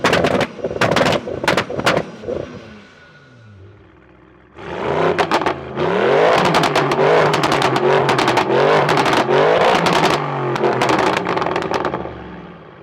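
A 1080HP turbo VW Golf R32 and an 830HP Audi RS6 rev hard, with sharp backfire-like cracks and pops at first, then a long loud stretch of roaring revs punctuated by rapid bangs.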